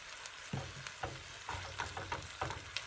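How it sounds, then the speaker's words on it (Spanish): Pork loin in onion sauce gets stirred in a pan over low heat, with a soft sizzle under a series of distinct spoon scrapes and knocks roughly every half second; close, fairly quiet, no voices. "Y voy a empezar aquí a revolver."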